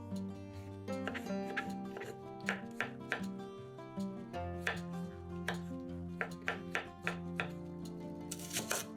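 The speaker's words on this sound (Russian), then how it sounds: "Шампиньоны нарезаем кубиками." A knife dices champignon mushrooms for a salad, giving a quick series of soft, close taps on a board under steady background music.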